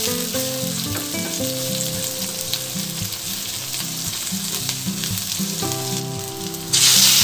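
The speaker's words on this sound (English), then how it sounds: "Add 3 cloves garlic chopped and continue to sauté for about 10 seconds." Chopped garlic sautéing in a pan for Filipino pork adobo, a continuous close sizzle with a few stirring scrapes, heard alone without speech and growing briefly louder near the end.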